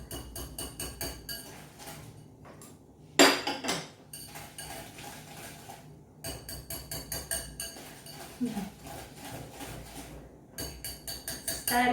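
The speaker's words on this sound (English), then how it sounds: "So just keep turning your bowl around while you're whisking." Eggless chocolate chip cookie dough is whisked in a bowl, making a rapid, rhythmic run of metallic clinks and scrapes close by. Louder knocks stand out here and there.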